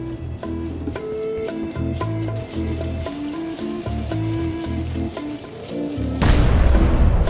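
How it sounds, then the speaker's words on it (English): A cannon fires in the pirate adventure game Return to Monkey Island: a loud, sudden booming blast near the end, after several seconds of plucked, rhythmic game music. "Ready for cannon firing."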